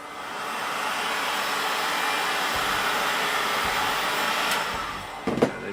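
A heat gun warms a piece of craft foam for a BB-8 body, a steady, close, whooshing blow of hot air that runs unbroken throughout, with a faint knock near the end and no talking.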